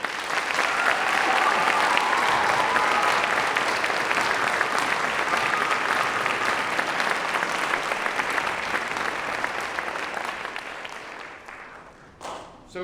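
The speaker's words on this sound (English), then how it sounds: "Please applaud those people." A concert audience gives loud, sustained applause for the people behind a musical collaboration. The clapping is dense and steady from a large crowd, then fades over the last few seconds.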